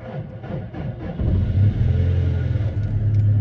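A car pulls out of a home garage, its engine rumbling low and steady, swelling louder after the first second and holding a close, even idle-to-drive drone.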